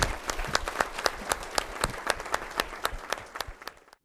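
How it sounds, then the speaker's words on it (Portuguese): Warm applause from an audience greeting newly qualified lawyers at a Brazilian bar association swearing-in ceremony, a dense run of clapping that holds steady for several seconds, then thins and fades out. "peço-lhes uma calorosa salva de palmas."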